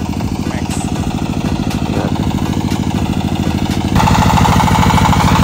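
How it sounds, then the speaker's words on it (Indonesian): A brand-new 20 kVA diesel generator set runs loud and close, its steady throbbing engine drone continuing throughout and rising slightly near the end. "Nah, dapat genset 20 kVA ya. Ini semua baru ya, ada dieselnya, dinamonya semua baru."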